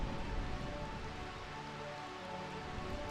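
Steady rain falling in the video game Final Fantasy, a continuous soft hiss of drops with faint game tones underneath, no voices.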